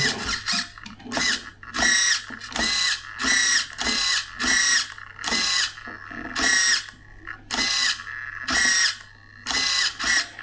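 Brushed RC servo motor grinding through slow movements, a loud buzzing gear whine in repeated short bursts of about a second each, separated by brief pauses.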